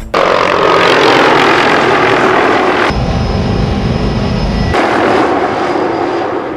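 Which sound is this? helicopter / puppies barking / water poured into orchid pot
helicopter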